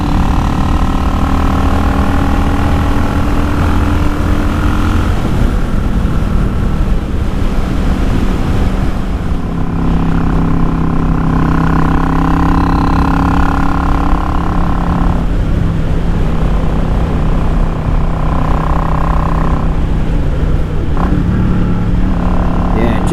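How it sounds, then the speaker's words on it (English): A Yamaha XVS650 cruiser fitted with Mikuni pilot jets and a single-baffle exhaust rumbles on a test ride. Its steady engine drone and shifting revs sit under heavy, constant wind buffeting. "So not only are we getting a noticeable kick in performance, our bike just sounds a lot better."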